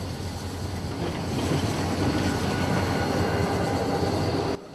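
A locomotive-hauled train rumbles along railway tracks beside homes, a loud, steady roar of wheels and rail noise filling the whole stretch before cutting off abruptly at the end.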